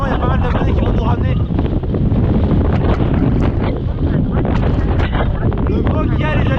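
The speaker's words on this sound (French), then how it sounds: "Il y a du vent, c'est un truc de ouf." Strong wind blasts steadily across an exposed microphone, a loud, constant rumbling roar with gusty buffeting throughout and no letup.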